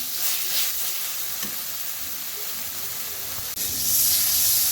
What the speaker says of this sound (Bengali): সব কিছু দিয়ে ভালো করে ভেজে নিলাম